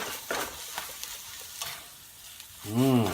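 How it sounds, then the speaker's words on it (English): Eggs with melting cheese stirred in a frying pan, a few soft scrapes and taps of the utensil over a quiet sizzle, ending in a brief louder scrape or clatter. "Stir that up until the cheese is just melted."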